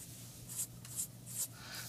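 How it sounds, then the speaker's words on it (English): Writing on a board during an engineering lecture: several quick, close scratchy strokes in a short rhythmic series, with no talking. "So we'll write that up here as well."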